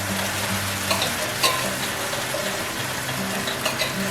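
Canned black beans with their liquid sizzle steadily in a hot skillet for a chicken curry pot pie, a dense close crackling hiss with occasional spatters and no talking.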